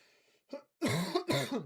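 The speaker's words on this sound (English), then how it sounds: "I've been having a bad cough" A few short, rough coughing bursts up close, the last two loud and harsh, following a faint hum and a small throat sound.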